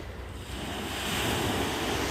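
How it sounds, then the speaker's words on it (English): Ocean surf at Forrester Beach with the tide going out, a steady broad wash of waves swelling gently louder, with light wind across the microphone and no voices. "And right now, the tide, I think, is going out."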